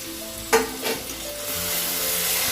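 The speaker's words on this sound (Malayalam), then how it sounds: "ഈ തക്കാളി ഒന്ന് വഴന്ന് വരണ വരെ ഒന്ന് നമുക്കൊന്ന് നന്നായി ഇളക്കി യോജിപ്പിക്കാം" Tomatoes stirred and sautéed in a pan for chicken biryani: a sharp scrape of the spoon near the start and a second softer one, then a steady frying sizzle that builds and holds, with no talking.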